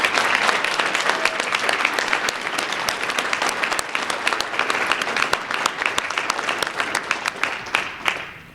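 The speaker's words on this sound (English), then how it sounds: "Give them a round of applause for representing your school." A crowd at a school district's elementary essay contest ceremony applauds loudly and steadily for several seconds, the clapping thinning slightly as it fades out at the end.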